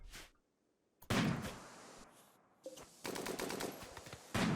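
Turret and machine gun fire in the Rimworld video game, loud bursts of rapid shots in two main volleys separated by a quieter gap, with a few single bangs at the start and end.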